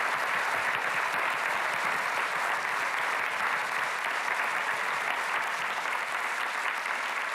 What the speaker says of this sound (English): give one last round of applause for the extraordinary group of speakers we've just seen